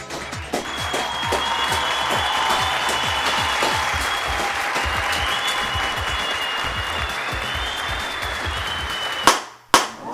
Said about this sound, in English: round of applause for Kyoko